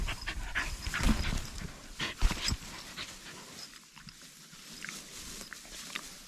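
A dog pants in rhythmic bursts on a mountain walk near a hidden village in County Antrim, close and moderately loud, with footsteps and outdoor rustle around it.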